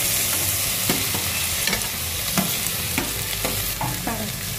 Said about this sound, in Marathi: आता यात आपण बटाटे ॲड करून घेऊ.